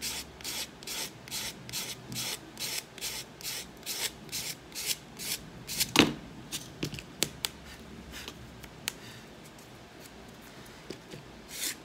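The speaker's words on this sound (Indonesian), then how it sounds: "Jadi ini bisa kita amplas." Rapid rhythmic rubbing of sandpaper against a small part of a rubber-powered model plane, close up, with a few sharper scrapes and taps as the strokes slow and fade.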